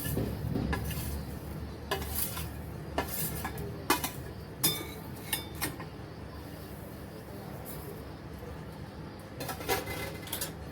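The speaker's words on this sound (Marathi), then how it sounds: "आता आपण डाळ पण भाजून घेऊया कोरडच त्याच्यानंतर सफेद तीळ पण घालूया याच्यामध्ये" Dal and white sesame seeds dry roasting in a pan, stirred with a spoon that scrapes and clinks against the metal in irregular bursts, over a faint low background.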